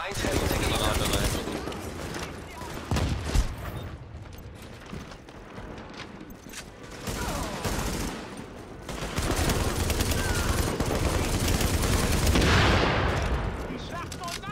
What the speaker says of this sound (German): Lass mich da erstmal eine Granate rein.